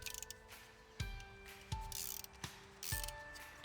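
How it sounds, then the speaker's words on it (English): A ratchet breaks a spark plug loose in an Audi 3.0T engine, giving quiet close clicking of the pawl with several sharp knocks spaced about a second apart. "you can use the ratchet to break the spark plug loose"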